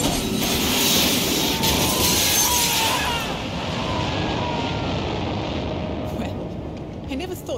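A jet aircraft roars loudly and steadily in a video game after an ejector seat is pulled, broadband engine noise filling the whole span with a brighter high rush fading partway through.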